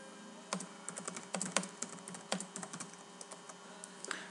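Clicky keystrokes on a computer keyboard while typing a note, a steady irregular patter of light taps at close range, alone with no talk.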